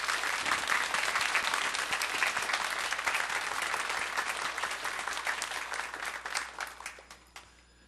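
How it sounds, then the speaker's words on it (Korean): A church congregation applauds a soloist, a dense, steady round of many hands clapping at moderate distance that gradually thins and fades out near the end. "뒤늦었지만 한번 격려 박수를 드리면 좋겠습니다"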